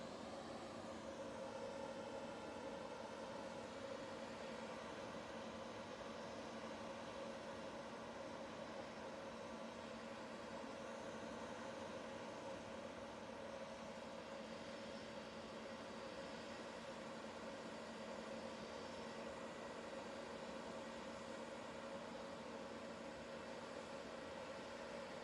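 An Emirates EK17 airliner from Dubai arriving at Manchester Airport, a steady, distant, faint jet engine drone holding evenly for the whole stretch with no voices.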